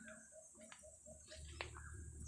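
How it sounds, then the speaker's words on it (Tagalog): Birds sing softly in the distance, a repeated short whistled phrase with a few sharper chirps over a quiet rural background hum, in the Philippine countryside. "Maririnig nyo yung mga huni ng ibon."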